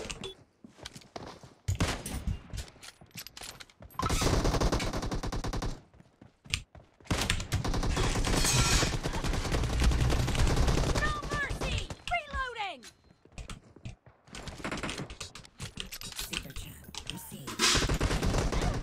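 Gunfire from PUBG Mobile crackles in loud repeated bursts and rapid volleys, with a player talking over much of the action.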